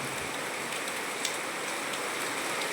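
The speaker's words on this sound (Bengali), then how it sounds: "কি জোরে বৃষ্টি হচ্ছে" Heavy rain pours steadily onto a hard surface, a dense, unbroken hiss with scattered louder drops, constant from start to finish.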